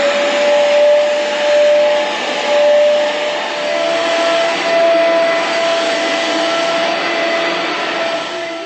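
A wet vacuum cleaner runs continuously while cleaning a cold storage chamber aboard a ship, giving a loud, close, steady whine with a constant tone and gentle swells in level.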